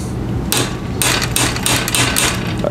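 Sharp metallic hammer blows strike a part of an old Trek mountain bike in an irregular series, about a dozen hits, loud and close, ringing briefly after each impact.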